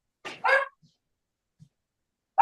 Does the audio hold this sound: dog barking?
yes